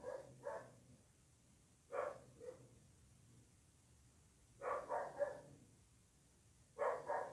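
Dogs bark from a distance in short, faint bursts of two or three yaps, separated by long quiet gaps with low background hum.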